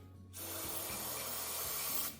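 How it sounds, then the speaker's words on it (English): Mass airflow sensor cleaner sprayed onto the sensor of a 2021–2025 Kia K5 2.5L LXS: one steady, close, loud hiss lasting about two seconds, with no one talking. "You're going to spray right down and onto that sensor."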